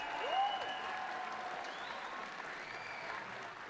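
Arena crowd applauding after a men's artistic gymnastics routine at a World Challenge Cup, steady sustained clapping at a moderate distance with a soft voice briefly rising over it.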